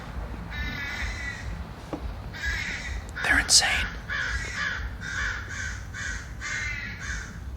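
Crows cawing in repeated harsh calls, heard early in the morning, loud and fairly near in bursts across the whole stretch, over a low rumbling background, with a person talking briefly in between.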